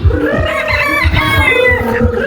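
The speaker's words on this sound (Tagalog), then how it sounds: "narito na po ang mga white manok" White chickens at a farm cluck and crow loudly and close by, with several birds calling over one another in a busy, continuous chorus.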